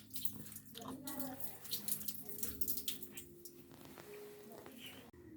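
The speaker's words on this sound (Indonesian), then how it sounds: "kita akan mengambil sampel air dari mulut keran sebanyak 3/4 botol" Water runs from a tap into a sample bottle during a water-sampling lab procedure, a steady close splashing stream with a faint tonal hum underneath throughout.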